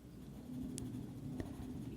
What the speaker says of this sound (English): I'm going to real sloppily write purpose